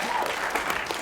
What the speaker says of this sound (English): Robert, you're applauding.